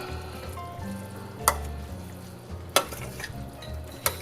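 New Orleans jambalaya simmering in an uncovered pot, giving a steady close sizzle and bubble with a few sharp clinks of a spoon or utensil against the pot.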